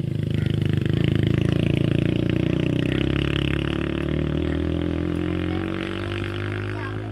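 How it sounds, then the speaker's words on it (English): A daughter's dirt bike passes nearby on a farm, its engine a steady loud buzzing drone that swells and then slowly fades as it moves off. "That was my daughter riding her dirt bike"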